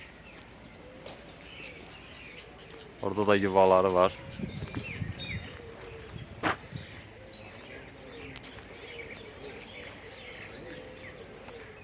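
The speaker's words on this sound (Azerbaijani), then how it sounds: "Növbəti qartallardır gördüyümüz kimi. Çox qeyri-adi səslər çıxarır." At a zoo in Prague, a captive eagle gives one loud, harsh harmonic call lasting about a second, followed by a sharp short cry, while a person talks nearby.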